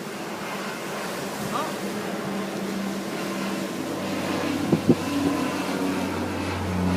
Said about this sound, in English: Oh, it seems to be getting a little windier.